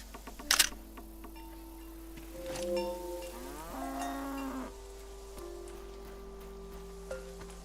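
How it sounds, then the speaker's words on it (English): A cow moos in the video game Season: A Letter to the Future, a single drawn-out, wavering low call heard close and clear over a steady hum, preceded by a sharp click and followed by small ticks. "You are a cow and you are named Krasnahorkai."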